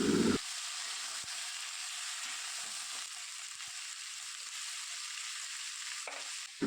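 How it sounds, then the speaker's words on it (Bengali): Thin, long-cut potato and vegetable stalks frying in a pan give a steady, even sizzle with a faint clatter at the start and end, close and without talk. "সবজিটা এখন ভালোভাবে ভেজে নেব"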